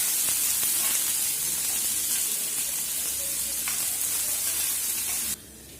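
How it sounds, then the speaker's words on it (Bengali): Chopped onion and garlic frying in a pan for a red lentil tarka, a steady close sizzle with faint stirring scrapes that cuts off near the end. "এবার পেঁয়াজ কুচি, রসুন কুচিগুলো একটু ভেজে নিতে হবে"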